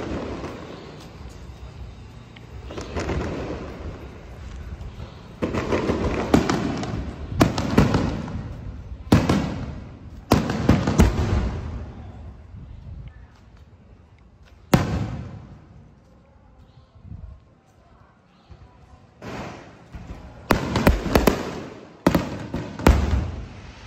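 Fireworks and firecrackers at a temple birthday procession for Mazu in Tuku, Yunlin, Taiwan, loud clustered bursts of popping and crackling in waves with quieter gaps between, fairly near, no talk.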